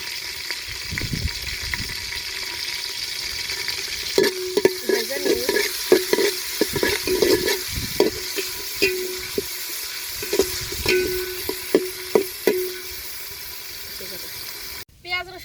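Garlic fried and stirred in a pan for a village-style pulao, with a steady sizzle under repeated scraping clacks of a spoon against the pan, close by, and a voice speaking at times.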